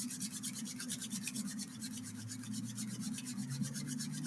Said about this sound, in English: Bring your hands together, rub the hands, wake up the body.